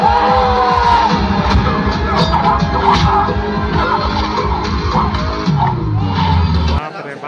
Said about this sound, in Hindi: बाप रे, भीड़ देखिए भीड़।